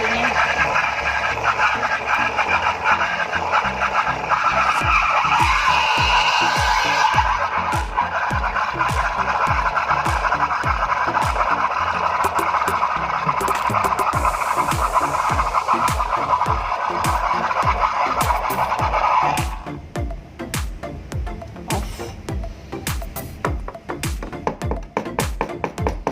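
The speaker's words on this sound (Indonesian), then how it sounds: "Ini foaming yang Anda dapat dari mesin Mayaka." A Mayaka espresso machine's steam wand froths milk with a steady, loud hiss for about twenty seconds, then cuts off, leaving quieter rhythmic tapping and handling noises close by.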